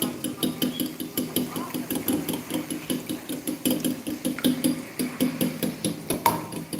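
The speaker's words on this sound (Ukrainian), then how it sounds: "Зараз ми їх вилочкою трошки зіб'ємо." Rapid, rhythmic clinking of a fork whisking four eggs in a bowl, fast and steady throughout, close by with no talking.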